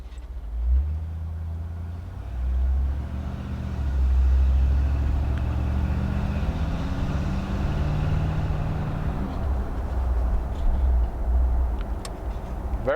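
A classic car drives along the road with a low, steady engine drone and shifting rumble as it accelerates, road and wind noise beneath, heard close from inside with no talking.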